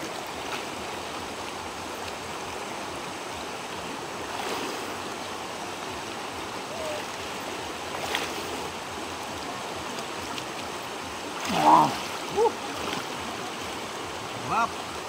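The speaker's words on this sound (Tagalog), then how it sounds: "Sa Ilog River." A rural river flows in a steady, moderate rush outdoors. Voices and a few brief splashes or knocks come through over the water.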